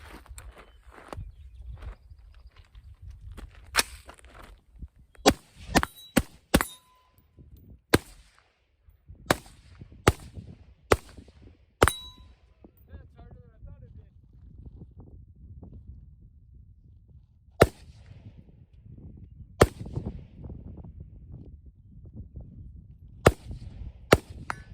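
A painted AR-15 rifle is fired outdoors on the Fourth of July, with sharp single shots ringing out irregularly, sometimes in quick clusters and sometimes with long pauses, over a low background rumble.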